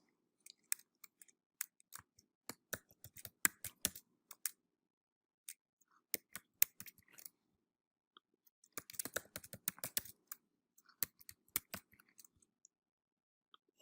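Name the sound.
typing an email address on a computer keyboard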